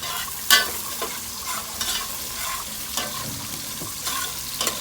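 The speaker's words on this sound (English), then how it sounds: "We let it fry a little bit" Garlic, onion, sweet pepper and tomato frying in a pot for Trinidad-style banana fig talkari, a low continuous sizzle broken by several scraping stirs, one sharp clink near the start, close and quiet with no talking.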